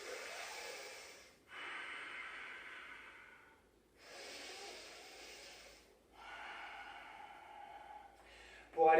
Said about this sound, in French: je conserve dans ce genre de posture une respiration profonde ventrale